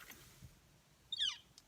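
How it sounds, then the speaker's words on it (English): A single sharp, high-pitched bird chirp rings out clearly against a quiet background, brief and fairly close. "Never heard a bird chirp that loud."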